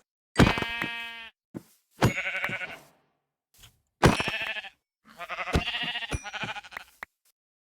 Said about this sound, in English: I can hear the sheep. I just can't see the sheep.